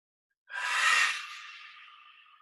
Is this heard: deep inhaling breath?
yes